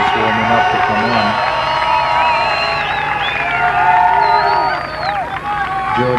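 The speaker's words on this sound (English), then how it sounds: "the crowd certainly appreciating seeing George Kariakakis warming up to come on" Soccer stadium crowd in a 1991 match between the Nova Scotia Clippers and Vancouver 86'ers, cheering and whooping loudly for a substitute warming up, with whistles and shouts rising over a sustained roar.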